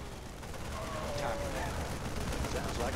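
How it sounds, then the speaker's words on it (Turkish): Bombs dropping in the StarCraft 2 video game give a rumbling barrage of rapid blasts and crackling fire, a dense, continuous roar of battle with a voice speaking over it. "bomba falan atıyorlar"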